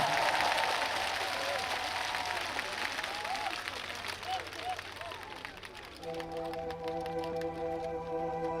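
Crowd applause at an outdoor opening ceremony for a provincial sports festival for athletes with disabilities, moderately distant, thinning out as a trot song's instrumental intro begins and steady tones take over.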